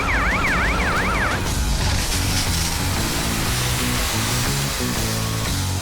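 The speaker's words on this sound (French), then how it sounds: "Pelle, monte voir si les pompiers arrivent" A fire engine's wailing siren in a cartoon about dinosaurs rises clearly at first, then is swamped by a loud, dense rush of engine and street noise as the truck draws near.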